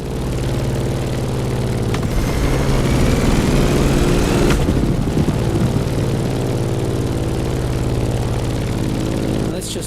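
A propeller airplane engine drones steadily in The Crew Motorfest, flying through turbulent skies near a volcano, a continuous loud hum with harmonic tones holding throughout while a voice talks over it.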